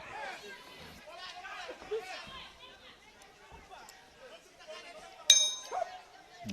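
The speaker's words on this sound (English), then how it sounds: "right at the end of the round on the bell" Boxing bell ending a round at an amateur men's world championship bout, a sharp metallic clang ringing out over crowd chatter and commentary.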